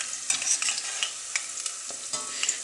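Robinia (false acacia) flower fritters frying in hot oil give a steady, close bubbling sizzle dotted with small crackles and spatters, with no voices.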